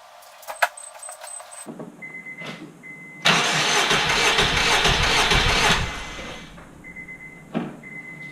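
A car engine cranks during a compression test with the tester fitted. The starter grinds steadily for a few seconds and then stops. Short beeps and small clicks come before and after, and no one speaks.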